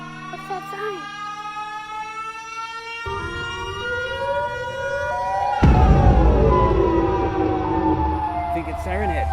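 A wailing siren of the Siren Head creature rises and falls in long tones, loud and close, joined by other layered sounds midway as the wail swells.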